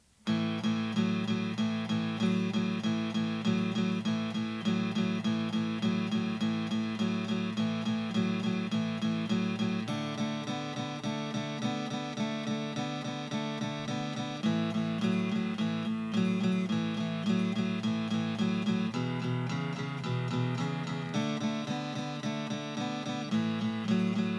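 Strummed guitar chords played in a steady rhythm, several layered parts together, continuous and moderately loud with no voices.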